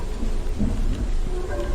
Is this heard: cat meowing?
no